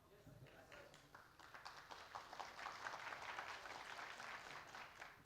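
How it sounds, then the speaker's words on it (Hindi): An indoor audience claps in a dense, steady patter of applause that swells and then holds, heard fairly faintly and alone without speech. "ये जो आप लोग ताली मारा ना"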